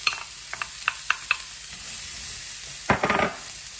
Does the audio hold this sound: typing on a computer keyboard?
no